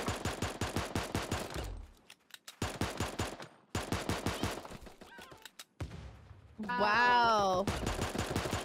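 Rapid bursts of dart-gun fire in a cartoonish battle royale game, several fast volleys separated by short pauses, with a player briefly exclaiming and a honking, warbling in-game sound near the end.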